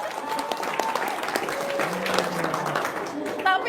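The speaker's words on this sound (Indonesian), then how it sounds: "Tepuk tangan dong." Audience applause at an Indonesian testimonial gathering, a steady wash of clapping that runs the whole time under ongoing talk, moderately loud and fairly close.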